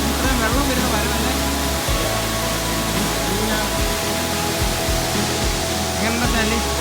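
The Aruvikuzhi waterfall roars as a steady, broad rush of falling water close by, with people talking over it throughout.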